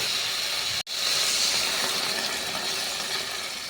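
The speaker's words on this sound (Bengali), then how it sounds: "সবজিটা ভালো করে কষানো হয়ে গেছে, এখন জল দিয়ে দেবো।" Water poured into a hot pan of sautéed aubergine and small potatoes with turmeric hisses loudly and steadily after a brief pause, a close, broad steam sizzle that slowly eases off.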